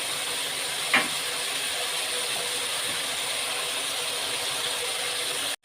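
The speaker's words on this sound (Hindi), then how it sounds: "इस बिरयानी में गोल्डन नहीं होती है प्याज, तो इसलिए हम इसे यहाँ पर ऐसे डाल देंगे। अब इसको होने देंगे हम फ्राई।" Onions fry in a pan for a degi-style biryani, kept pale rather than golden. A steady, even hiss continues throughout with no voices and cuts off abruptly at the end.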